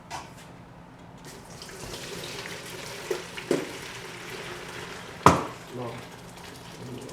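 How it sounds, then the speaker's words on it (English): Chicken bone broth with carrots and celery poured through a colander into a bowl, a steady running splash under a faint voice, ending with a sharp clank from the pot or strainer. "going to strain it into a strainer to separate the carrots and celery and everything from the broth"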